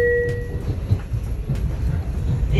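A brand new Kawasaki M9 Long Island Rail Road commuter train rolls between Far Rockaway and Jamaica, giving a steady low rumble with rhythmic wheel clicks over rail joints and a brief tonal whine at the start.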